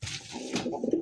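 Khaki pigeons on display at a market coo in a low, soft, throaty murmur. The calls are close and fairly quiet, with a brief breathy rustle at the start and no talking.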